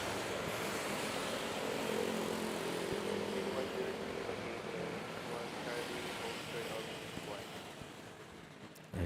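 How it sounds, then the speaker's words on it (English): A Cebu Pacific airliner bound for Singapore takes off at Manila airport, a steady broad jet roar held at a distance across the whole stretch, with faint talk underneath. "we have our first takeoff for the stream. Cebu Pacific"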